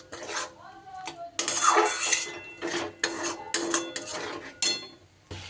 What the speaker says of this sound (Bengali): খুব ভালো করে দইটা মিশিয়ে দেব।